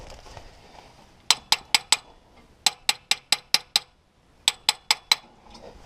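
A fuel system part on a 1969 Buick Special Deluxe with fuel problems is struck with a metal tool: three quick bursts of sharp, ringing taps, four to six hits each, close and loud over a quiet background.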